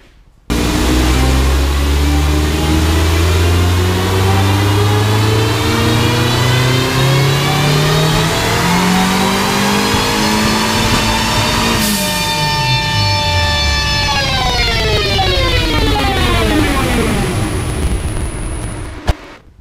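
Renault 5 GT Turbo engine on a dyno, revving loudly and climbing steadily through the gears in one long pull, then easing off, with a turbo whistle and heavy roar throughout and no voices.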